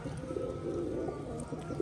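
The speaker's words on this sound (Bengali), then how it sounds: "এদিকে একজোড়া কালো সাদা পর্বন পিছনেরটা ছেলে পায়রা সামনেরটা মেয়ে পায়রা" Rajshahi pigeons coo softly while they feed, a low, continuous murmur of calls that stays faint throughout.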